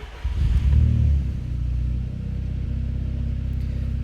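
A VW B3 Passat's 1.8T 20V engine with a big turbo fires up with a brief crank, surges into a loud, deep rev, then settles into a steady low idle rumble close by.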